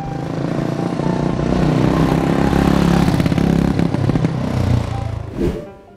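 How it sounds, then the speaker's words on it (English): A motorcycle engine runs loud and close, a steady rumbling drone that swells slightly in the middle and then cuts off abruptly near the end. "M is for Motorcycle."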